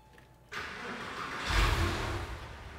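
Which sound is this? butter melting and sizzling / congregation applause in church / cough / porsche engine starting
porsche engine starting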